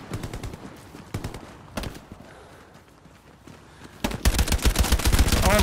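Gunfire in the World War II shooter Hell Let Loose: scattered single shots and short bursts early, then a loud rapid stream of automatic fire near the end, with thuds and movement in between.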